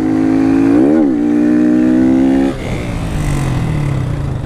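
A motorcycle ridden on a road in a moto vlog, its engine loud and close, revving up and down in a rising and falling whine, then easing off into a lower steady drone with wind noise.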